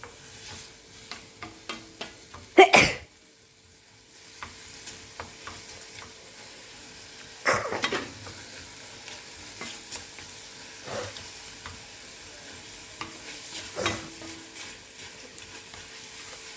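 Vegetables with tomato frying in a pan for a simple vegetable biryani, a low steady sizzle broken by a few loud stirring scrapes and clatters spaced several seconds apart.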